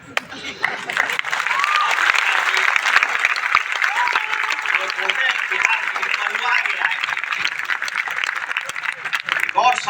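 A seminar audience at a business motivational event bursts into sustained, dense applause that swells quickly and carries on for several seconds, loud and close, with crowd noise mixed in.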